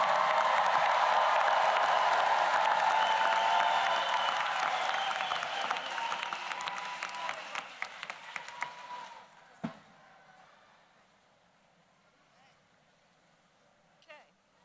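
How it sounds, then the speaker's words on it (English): Audience at a Rutgers School of Social Work convocation ceremony applauds and cheers undergraduate graduates, a dense sustained roar of clapping and voices that thins into scattered claps after about nine seconds, then near silence with one last burst. "Let's make some noise for our undergraduate students"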